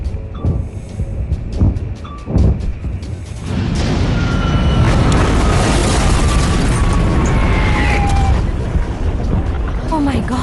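A fire roars and booms in a dramatic film scene, starting with scattered thumps and hits before swelling into a loud, continuous rumbling roar that fills the rest of the scene.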